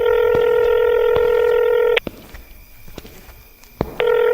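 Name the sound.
telephone dialing a call to police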